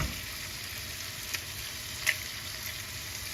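Eggs sizzle and fry steadily in a hot pan for a chicken pad thai stir fry, a constant close crackle with a couple of brief louder pops and no talking.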